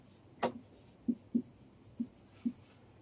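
A marker or chalk taps against a board while the formula for n-pentane is written, giving five short, close, distinct knocks spaced unevenly over three seconds in an otherwise quiet room.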